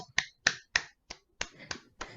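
A few sharp, separate claps from a small group at a speech-training session, about eight crisp strikes spaced roughly a quarter second apart, close and clear in a quiet room.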